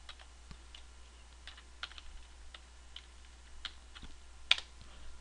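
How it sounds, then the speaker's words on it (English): A computer keyboard being typed on, faint scattered key clicks at an irregular pace with one sharper tap near the end, over a low steady hum. "or we press the backspace key"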